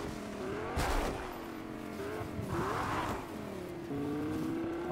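A car being driven in Fortnite, the engine revving and shifting pitch as it accelerates, with brief bursts of louder noise and tire squeal, close and continuous.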